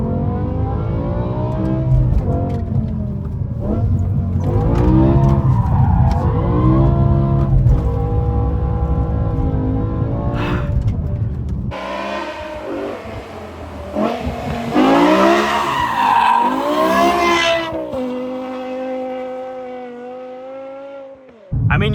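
A BMW M6 with a V10 engine held in first gear, its high-pitched wail rising and falling loudly as it slides sideways, with tire squeal mixed into the engine's revving.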